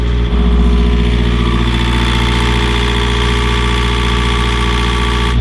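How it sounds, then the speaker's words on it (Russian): A Yanmar marine engine on a sailing yacht runs at a steady idle, a loud, even mechanical drone that continues unbroken throughout. "Мотор у нас хороший, производитель Yanmar."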